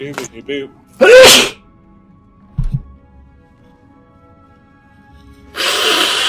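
A person sneezes once, a sharp sudden burst right after a short spoken phrase, with another loud noisy burst near the end and quiet background between.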